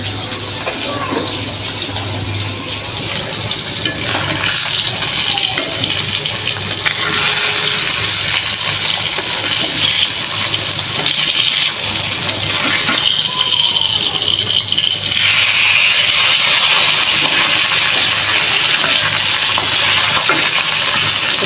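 Pabda fish spice paste of ginger-garlic, turmeric, chili, coriander and cumin cooking with a splash of water in a pan, a steady loud hissing sizzle with scraping and stirring rattles that carries on continuously.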